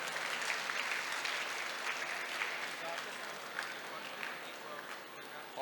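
At a Saraswati Puja cultural program, a crowd applauds the performers with a fairly faint, steady wash of clapping that holds evenly throughout.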